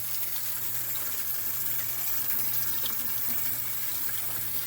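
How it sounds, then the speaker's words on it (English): Hot tap water runs in a steady, loud gush while rinsing a K&N air filter, a constant splashing stream with a low hum beneath and no talking. "So I'm going to use hot water."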